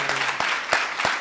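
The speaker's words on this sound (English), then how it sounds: "Don't stop clapping" Audience applause at the close of a conference, a dense wash of many hands clapping with a few sharper bursts standing out, steady and fairly loud throughout.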